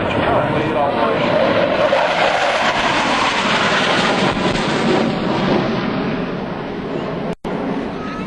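A Marine F/A-18 Hornet jet passes during a MAGTF demonstration at the 2002 NAS/JRB Willow Grove air show, its loud sustained engine roar filling the air with a broad, steady rush as an announcer talks over it.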